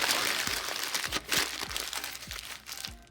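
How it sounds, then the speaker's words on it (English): A paper cover sheet crumpled by hand, giving close, crackling crinkles and sharp crunchy snaps in quick irregular bursts, with no voice over it. "take one of your cover sheets and crumple it up"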